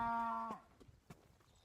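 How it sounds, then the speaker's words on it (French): Cows in the countryside of Espírito Santo, Brazil, give a single loud, clear moo that breaks off, followed by faint rustling and scattered soft knocks. "Regardez ces vaches."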